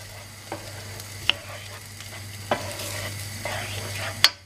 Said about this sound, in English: I'm going to go ahead now to add the egg. I'm going to mix them all together.